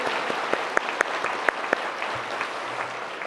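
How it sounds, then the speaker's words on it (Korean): A church congregation applauds during a Sunday worship service, a brisk burst of clapping with a few sharp individual claps standing out, fading somewhat toward the end. "우리 하나님께 박수 한번."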